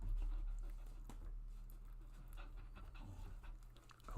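A dog pants steadily and close by, quick rhythmic breaths repeating throughout, fairly quiet, with low background rumble and no talking over it.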